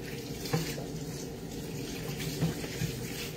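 Used utensils are rinsed under a running kitchen tap, a steady splashing stream of water with a few louder clatters as the items are handled, close by and without talk.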